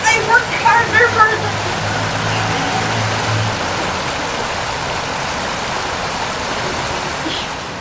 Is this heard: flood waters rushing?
yes